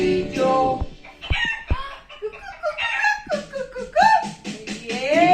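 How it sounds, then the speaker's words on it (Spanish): A chicken clucks in a short sequence of animal calls, rising and falling squawks close and clear with no talk over it. "Dime si tú sabes cómo hace la gallina."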